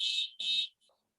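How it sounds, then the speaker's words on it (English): An alarm goes off during a virtual fitness class: two short, shrill electronic beeps in quick succession, fairly clear and alone, then a faint trailing tone. "somebody's alarm is going off"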